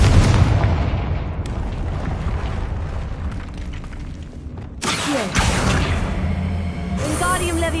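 Hogwarts Legacy's Confringo explosion spell: a dense rumbling blast with whooshing debris, then a second burst with a rising magical sweep, all continuous and loud with no talk.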